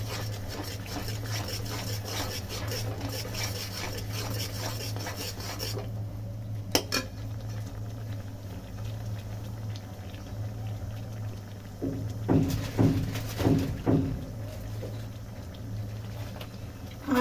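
Whole olive pickle (jolpai achar) with chili powder being sautéed and stirred in a pan over lowered heat: a low bubbling simmer with rasping spoon scrapes against the pan, growing into a few louder stirring strokes near the end.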